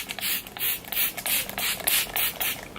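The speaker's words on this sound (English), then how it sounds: "I'm gonna go ahead and spray my face with the Smashbox Photo Finish Primer Water." Smashbox Photo Finish Primer Water mists onto a face in a rapid series of about eight short, crisp pump sprays, close and fairly quiet with no talking.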